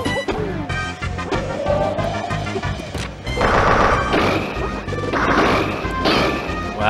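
Heavy impact hits land in a Super Smash Bros 64 match between Mario and Kirby, several sharp cracking smashes bursting over continuous game music and crowd noise.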